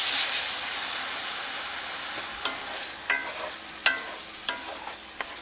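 Chicken livers fry in butter with a steady bright sizzle throughout, while a utensil stirs them with several distinct scraping clatters toward the end, close and fairly loud.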